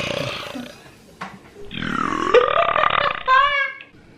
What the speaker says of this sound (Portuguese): Por favor, toma o refrigerante e arrota. Mas a rota bem alto.